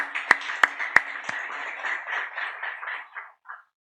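Church congregation applauding during a Sunday worship service: a few sharp, separate claps at the start swell into a brief blur of applause that fades away within about three seconds, ending in a faint trailing sound.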